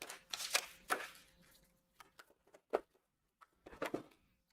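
Tarot cards are shuffled by hand in two bouts of quick, close riffling and tapping, with scattered soft card taps and gaps between them.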